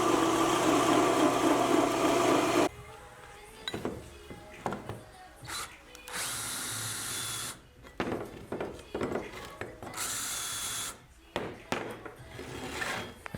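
A drill bores holes through a steel hinge for a home gym pull sled, with a steady high whine that cuts in and out in several bursts and is broken by scraping and clatter between runs.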